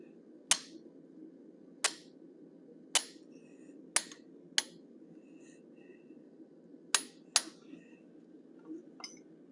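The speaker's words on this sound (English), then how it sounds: "I'm using a small curved chisel to do the front of his mouth" Sharp metallic hammer strikes on a small curved chisel while forging a cougar head, about ten distinct ringing taps at an irregular pace over a steady background hiss.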